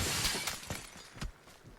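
Glass shatters in the New State Mobile video game, a sharp close burst of breaking glass followed by a couple of quick bright crashes within a second or two.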